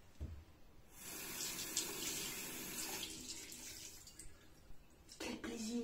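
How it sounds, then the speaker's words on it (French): Water running from a tap into a sink, a steady close hiss that starts after a second and continues for several seconds before stopping, followed by a few brief knocks and splashes. "Quel plaisir d'avoir de l'eau"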